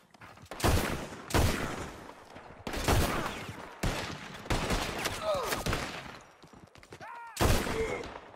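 A Red Dead Redemption 2 gunfight, with loud repeated gunshot blasts in heavy bursts, each ringing out and decaying, spaced about a second apart. A few brief vocal sounds come in between the shots.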